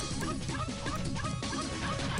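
A small yappy dog in the online game Ragnarok Online barks rapidly and repeatedly, loud and continuous over dense game music and effects.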